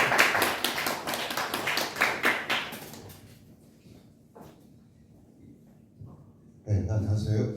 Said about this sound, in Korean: 박수로서 환영해 주시기 바랍니다